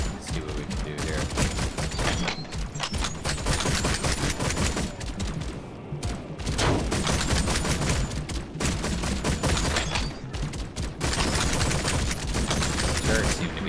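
Rapid bursts of turret gunfire in a video game at a gaming convention, dense volleys running almost continuously and loud, with a voice talking over the shooting.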